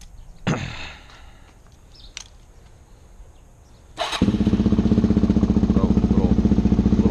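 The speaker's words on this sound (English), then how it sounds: "I'll show you that the bike starts up fine" A Suzuki DRZ-400S fitted with an FCR39 carburetor turns over after a few clicks and knocks, then catches and settles into a loud, close, evenly thumping single-cylinder idle.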